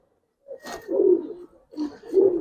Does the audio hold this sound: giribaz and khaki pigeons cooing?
yes